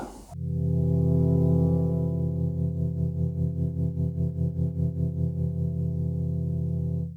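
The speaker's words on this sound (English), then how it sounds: "So that's tremolo on the carrier." A sustained FM synthesizer tone on a Kodamo Essence FM with tremolo applied to the carrier, its volume pulsing rapidly and evenly throughout, loud and alone with no voices.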